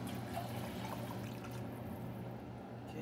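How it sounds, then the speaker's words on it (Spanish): Water is poured into a pot of red beef southwestern soup cooking at home, a steady low splashing rush that continues throughout, fairly quiet with no voices. "le vamos a agregar el agua también"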